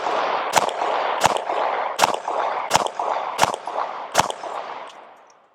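A Glock 45 pistol fitted with an Afterburner barrel fires six evenly spaced sharp shots at steel targets, each crack followed by a ringing metallic clang, over a constant loud outdoor roar that fades at the end.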